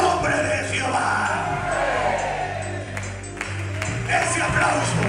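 A church congregation breaks into applause after a preached message, with a steady wash of clapping that carries through the moment alongside a low sustained musical tone.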